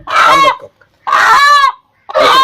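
Three loud, close squawking calls from an Aseel breed backyard chicken suffering from sneezing, cold and cough, each about half a second long, separated by short silent pauses.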